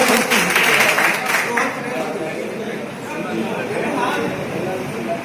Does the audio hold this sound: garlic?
no